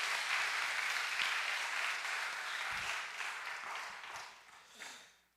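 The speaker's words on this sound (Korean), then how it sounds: "자 우리 좀 박수로 좀 환영했으면 좋겠어요" Church congregation applauding to welcome young members home from overseas mission work, a broad, steady wash of clapping that gradually fades out toward the end.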